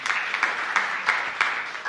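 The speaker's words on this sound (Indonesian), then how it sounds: "Tepuk tangan yang meriah bagi Tuhan Yesus." Church congregation applauding during a sermon, a dense, steady, fairly loud wash of many hands clapping together with no voices over it.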